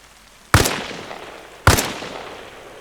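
Two loud sniper rifle shots in ArmA Reforger, a sharp crack with a long rolling echo each, spaced about a second apart against a quiet outdoor background.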